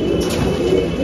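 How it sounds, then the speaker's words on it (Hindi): Pigeons coo softly in a loft, a brief low burbling call close by over a faint background hum. "बहुत ही हसीन लाजवाब कबूतर है"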